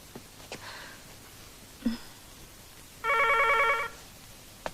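A single burst of a telephone bell ringing, about a second long, in an otherwise quiet room with a few small breathy sounds before it.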